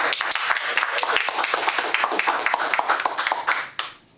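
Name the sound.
audience applause for Fraser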